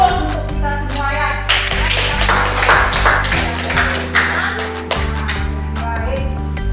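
A group in a training class applauds, with sharp, close clapping that swells through the middle and then thins out toward the end.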